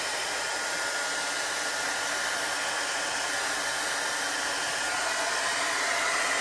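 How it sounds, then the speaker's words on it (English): A handheld heat tool dries chalk paste on a chalkboard, giving a steady, loud, breathy fan roar that runs evenly from start to finish without any talk. "heat tool and dry it."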